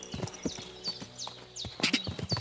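Horse hooves clop along in Kingdom Come: Deliverance II, a quick uneven trot of sharp close hits with a faint whinny-like tone in the background.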